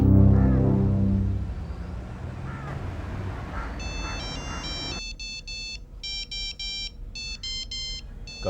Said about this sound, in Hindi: करण का फोन?